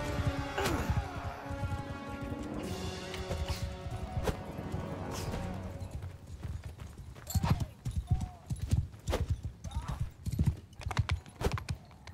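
Galloping hooves clatter in quick rhythmic bursts alongside a horse's whinny, with game-like music and effects layered over the noise, from the video game Mount and Blade II: Bannerlord.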